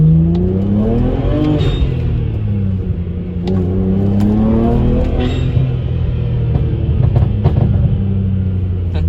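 A BMW 335i engine is held on 2-step launch control at about 4,200 rpm. It rumbles loud and close, revving up and dropping back in repeated swells of a deep, throaty drone.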